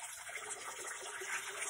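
Water rushes and splashes steadily in a baby's pool, a close, continuous bright wash with no pauses.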